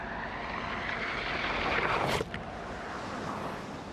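A fixed-wing aircraft taking off rises to a broad roaring swell that peaks and then cuts off sharply, leaving a steady windy rush behind it, with no talking.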